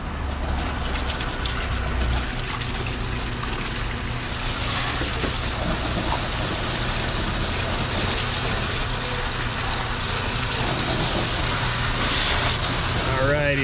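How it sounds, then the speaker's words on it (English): Steady hissing water spray at a car wash station washing the engine of a Lincoln MKS, a continuous rushing wash that holds at an even level from start to finish. "Begin engine washing procedure now."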